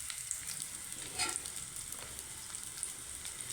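Onion and garlic fry in hot oil with a steady, close hiss and crackle, fairly quiet and unbroken, with no talking.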